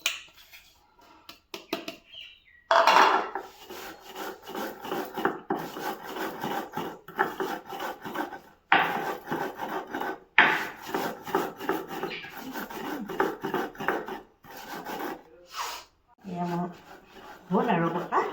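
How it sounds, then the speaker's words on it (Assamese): Cumin seeds being ground by hand on a flat grinding stone, a rough rasping scrape repeated in bursts of back-and-forth strokes with short pauses, close and fairly loud. "এতিয়া মই জিৰাখিনি পাতত পিচি ল'ম"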